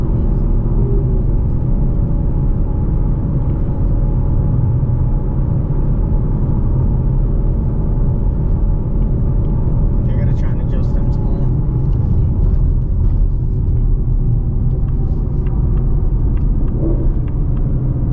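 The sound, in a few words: Ford Mustang GT S650 engine downshifting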